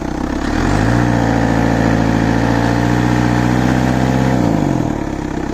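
A homemade 4x4 tractor's engine runs loudly and close, its droning pitch climbing, holding steady as it moves slowly, then dropping back toward idle, with no speech.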